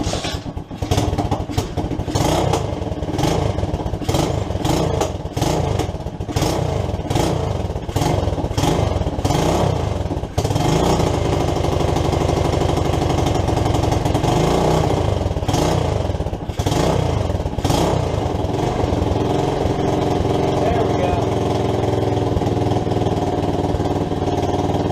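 An SSR 110cc pit bike engine with a newly installed head runs at a high idle, a steady loud mid-range putter with rhythmic revs and clatter up front, then settling into a constant drone, with no talk.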